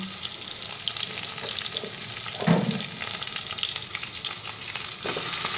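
Pumpkin pieces added to potato and taro already frying in a pan, with a steady sizzle and stirring throughout and a brief louder burst as the pumpkin drops in midway.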